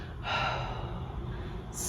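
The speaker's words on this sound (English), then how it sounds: "Exhale fully first." Someone exhales fully before using a metered dose inhaler: a single breathy rush of air near the start, close and fairly soft, then quiet.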